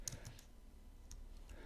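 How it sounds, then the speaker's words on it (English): Keystrokes on a computer keyboard during a game of quantum tic tac toe, a few quiet scattered clicks at close range with no talking. "typing it wrong."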